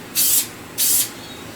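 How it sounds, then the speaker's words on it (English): Cooking spray is sprayed onto dehydrator trays in two short, close hissing bursts about half a second apart. "give my trays a little spray with a bit of cooking spray, just to make sure that the fruit comes off them"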